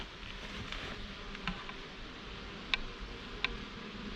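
A large cluster of honeybees hums inside a hive, a faint, steady drone close by, broken by a few sharp ticks.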